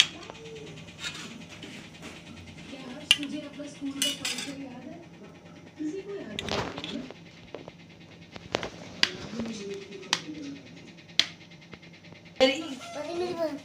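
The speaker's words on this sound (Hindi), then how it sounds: "इतने मैं अपने गट्टों को काट लेती हूँ" A knife cuts cooked gatte, gram-flour dumplings, in a home kitchen, leaving scattered light clicks and taps on a board among clinking utensils and intermittent animal or bird sounds in the background.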